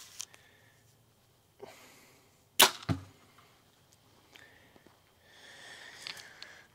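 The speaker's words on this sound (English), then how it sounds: "most of the noise is because the arrow rest and these arrows that they send is not going to work" A budget bow built for under $150 looses an arrow off a noisy rest: a single sharp, loud snap and thud midway, surrounded by faint handling rustles and quiet breathing.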